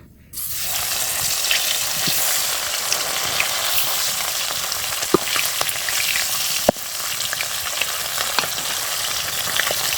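Fish dropped into hot oil in a wok, the loud sizzle erupting suddenly and holding steady with occasional sharp pops and clicks, no talk.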